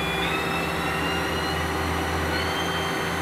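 A Mazak Integrex 200Y machining center spindle runs steadily at 4,000 RPM, a loud continuous whine with a strong low hum and high tonal lines, unbroken and alone.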